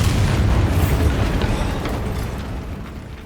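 A Bombarda spell explodes in the video game Hogwarts Legacy, a loud, heavy boom with deep rumble that decays slowly over a few seconds.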